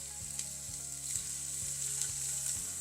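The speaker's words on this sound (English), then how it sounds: "You can hear this, you can hear the sizzle." Steak browning in olive oil sizzles steadily in a hot pan, a close, continuous crackle with light stirring clatter at intervals and no talk.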